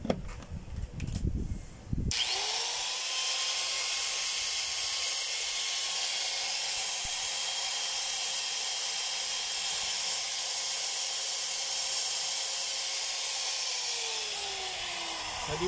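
Small electric motor running steadily after its carbon brushes were reinstalled, a continuous high whine and hiss that starts abruptly after a brief clatter and stays at an even level to the end.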